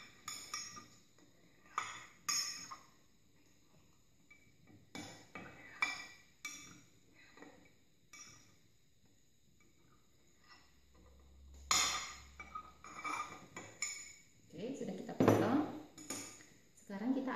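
Metal cutlery clinks and taps against a dish in short, irregular bursts while milk jelly is cut into pieces, close and fairly quiet, with a louder cluster of clatter near the end.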